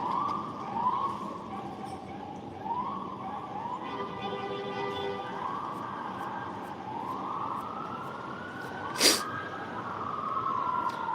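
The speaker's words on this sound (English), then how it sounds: "You hear all them sirens going off?" Several sirens wail and rise in repeating sweeps over steady street noise, with a sharp brief burst near the end.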